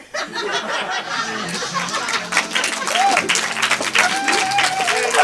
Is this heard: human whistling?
no